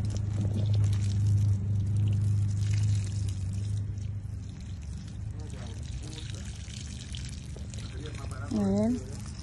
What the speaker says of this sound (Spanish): Aquí viene el agua.